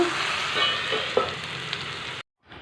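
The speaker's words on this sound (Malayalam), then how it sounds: "അങ്ങനെ ഞാൻ ദാ പാവക്ക കുറച്ച് വറുക്കാൻ വേണ്ടി ഇട്ടിട്ടുണ്ട്" Pieces of bitter gourd frying in hot oil in a home kitchen, a soft, steady sizzle with faint crackles that cuts out abruptly near the end before resuming quietly.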